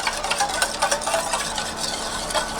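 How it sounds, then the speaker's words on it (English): A utensil stirring melted body butter ingredients in a pot, a continuous scraping, swishing texture with soft clinks, close and alone without talk. "Okay, so we're just going to mix that up."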